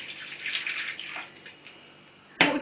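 Hot water from a chocolate-melting bowl poured into a foil-wrapped flat baking tin, a soft splashing pour with a sharper burst of water near the end, no talking.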